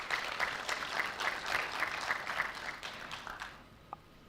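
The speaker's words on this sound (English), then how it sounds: "I think NCC deserves a round of applause for that." A round of applause from the audience at a digital economy awareness event, brisk clapping that fades out toward the end, leaving a single faint tap.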